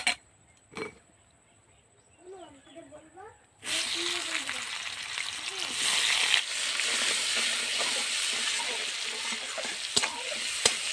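Onions hit hot oil in a wok with a sudden loud hiss, then keep sizzling steadily and close with occasional stirring scrapes. A voice speaks briefly just before the onions go in.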